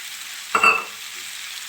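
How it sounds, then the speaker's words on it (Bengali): Green peas tipped into a hot pan for a potato and cauliflower curry give a brief, sharp burst of sizzling that quickly settles into a faint hiss. "এর ভিতরে আমি দিয়ে দেবো মটরশুঁটি"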